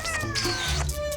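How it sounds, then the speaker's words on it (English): A 17-year-old cat named Nero gives a drawn-out, wavering meow close by. The call is loud and clear with a whiny, caterwaul-like quality, and there is no speech over it. "17-year-old Nero, a talking cat who lives with his devoted owner Simone."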